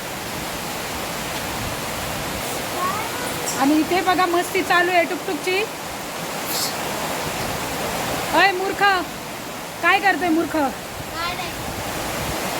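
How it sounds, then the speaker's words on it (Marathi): Heavy monsoon rain pours onto a flooded home terrace, a loud, steady broadband roar throughout, while someone talks intermittently over it. "किती मोठा पाऊस आहे तुम्हाला दाखवते मी"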